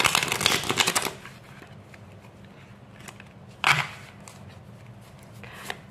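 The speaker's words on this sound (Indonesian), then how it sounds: "Aku shuffle dulu kartu tarotnya." A deck of tarot cards is shuffled by hand, starting with a loud burst of fluttering, riffling card noise. Softer shuffles and flicks follow, with another brief riffle later on, and no talking.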